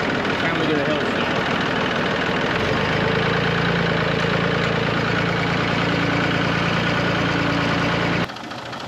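A tractor engine idles steadily on a hill with the handbrake on and the gearbox in neutral, a constant low chugging throb that cuts off abruptly near the end.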